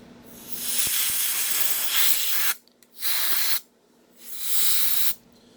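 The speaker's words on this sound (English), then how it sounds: "So what I do is I get a compressed air can." A can of compressed air sprays into the windows of a slot car in loud, close hissing blasts, a long one followed by two shorter bursts with quiet gaps between.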